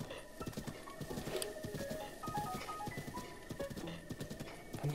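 A horse trots in the video game Zelda: Breath of the Wild, with a steady run of rapid hoofbeat clip-clops under faint game music, moderately quiet and continuous.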